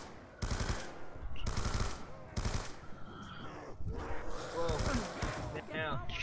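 Bursts of rapid automatic gunfire from Call of Duty Black Ops 2 Zombies come in several loud rattling volleys, followed by softer in-game effects and mechanisms, with players talking faintly underneath.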